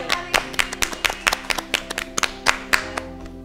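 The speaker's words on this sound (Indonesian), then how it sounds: "Oke, tepuk tangan dulu." A small group claps at an Indonesian UI/UX design talk, a run of sharp, distinct hand claps close by and fairly loud, slightly uneven in rhythm, thinning out toward the end with no talking over it.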